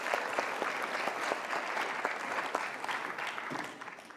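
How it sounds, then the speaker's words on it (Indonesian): Studio audience clapping for a monologue performer on a television talk show, a full, sustained round of applause that stays even for several seconds before gradually thinning out toward the end. "Kita kasih tepuk tangan dong Pak Jose"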